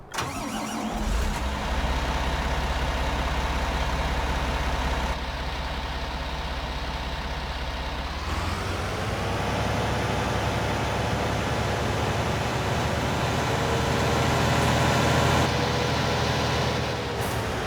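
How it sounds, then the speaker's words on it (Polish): Fendt 1050 tractor engine in Farming Simulator 19 cranks, catches and settles into a steady idle, then its pitch rises slightly partway through and it runs on loudly, with no talk. "posłuchajmy dźwięków tutaj tego właśnie ciągnika"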